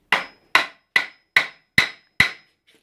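Six sharp hammer blows drive the leg of an armor stand into place, evenly spaced about every half second, loud and close with short decays and no talking.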